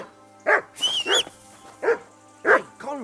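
A dog in the video game Kingdom Come: Deliverance II barks four times in short, evenly spaced bursts, close and clear, with a sharp whistle between the first barks.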